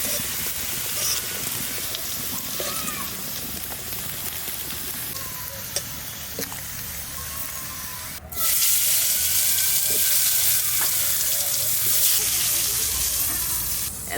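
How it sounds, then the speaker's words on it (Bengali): Pointed gourd and other vegetables fry in a pan, giving a steady sizzling hiss that jumps noticeably louder about halfway through, with faint background sounds over it. "পটল ভাজতে লাগছে আর বরবটি ভাজ।"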